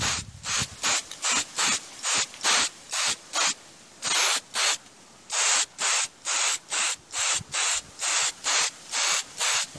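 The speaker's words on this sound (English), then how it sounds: "Spray both of that areas." Clear lacquer is sprayed onto a section of a Farmall tractor in short, loud, evenly spaced hissing bursts with brief gaps between them, repeated steadily throughout.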